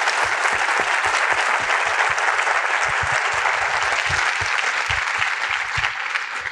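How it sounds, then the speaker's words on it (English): Sustained applause from an audience at a science lecture, many hands clapping at a steady, full level before tapering slightly at the close. "So please join me in giving Melissa another round of applause."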